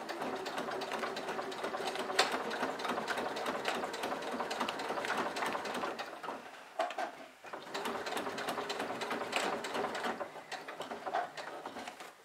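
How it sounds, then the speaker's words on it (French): A sewing machine runs in long steady bursts while stitching a backpack seam, with a brief pause around the middle before the fast mechanical whirring resumes, close and continuous with no talking. "je rabaisse mon pied, je continue donc ma couture"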